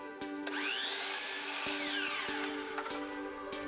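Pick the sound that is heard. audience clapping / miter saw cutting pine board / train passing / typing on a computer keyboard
miter saw cutting pine board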